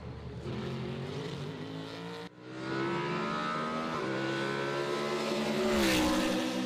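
A BMW Z4 race car's 4.4-litre V8 engine roars loudly and steadily during Supercar Challenge sprint qualifying at Circuit Zolder, its pitch climbing and falling as it revs, with a brief dip partway through before surging again.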